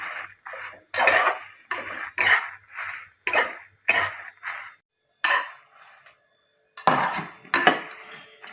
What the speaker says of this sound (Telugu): బాగా ఫ్రై అవుతున్నాయి చూడండి